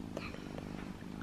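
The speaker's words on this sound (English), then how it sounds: "Purring. So cute." A cat purrs softly and steadily up close as a continuous low rumble, with quiet voices nearby in a home setting.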